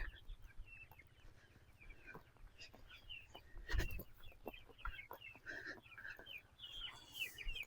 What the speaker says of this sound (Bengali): এই যে দেখতে পাচ্ছেন মুরগি এখানে